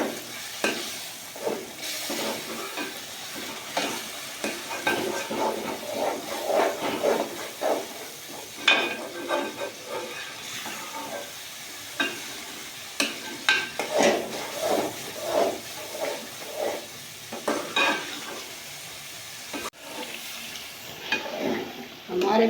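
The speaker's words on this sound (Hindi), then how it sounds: "हमारे मसाले फ्राई हो गए" Spices frying in a pan with yogurt for a spicy fish dish, a continuous sizzle with repeated scraping and stirring strokes that go on at a moderate level.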